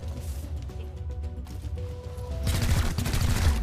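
Gunfire in the tactical video game XCOM Chimera Squad, a rapid burst of shots that grows louder and denser toward the end over a steady low game rumble, with no talk.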